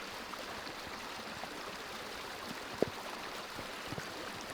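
Water runs in a creek across a disc golf fairway as a soft, even, steady rush at moderate distance, with one brief tap partway through and no voices.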